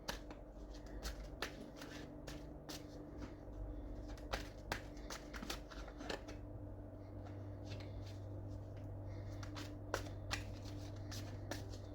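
Tarot cards are shuffled repeatedly, sharp riffling bursts recurring every second or so over a quiet, steady background hum.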